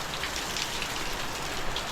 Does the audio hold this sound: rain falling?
yes